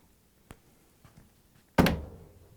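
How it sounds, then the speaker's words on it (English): A single solid thunk of a Samsung dryer door shutting, preceded by a couple of faint clicks, with a short ringing decay afterward. "After that, we can close the door."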